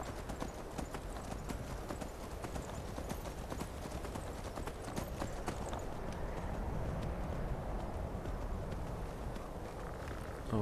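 Horse hooves gallop in the video game Skyrim, a rapid continuous clip-clop rhythm that stays fairly loud and close throughout, with no talk over it.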